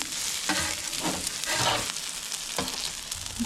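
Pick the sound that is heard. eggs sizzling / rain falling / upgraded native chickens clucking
eggs sizzling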